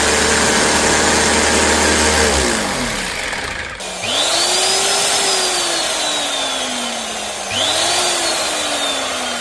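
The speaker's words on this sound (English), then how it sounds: "It's an Eben stock mixing drill or refiner or something, which is the same thing." A repaired Eibenstock mixing drill runs steadily, stops, then spins up twice with a rising electric whine that settles into a slowly falling motor hum, loud and close, without talk.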